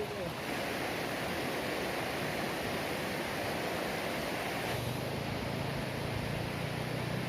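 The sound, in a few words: river flowing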